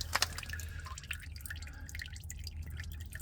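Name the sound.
engine oil dripping from loosened oil filter, Nissan Quest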